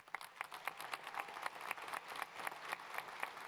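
Audience applause at a university undergraduate graduation ceremony, a dense patter of many hands clapping throughout the hall at fairly low level, steady with a few sharper claps standing out.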